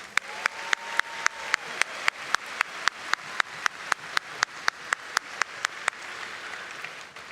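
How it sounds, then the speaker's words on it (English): Graduation ceremony crowd applauding for college officials, a soft, diffuse wash of clapping heard from a distance. Sharp, evenly spaced clicks recur throughout, and the applause fades toward the end. "let's give them all a round of applause"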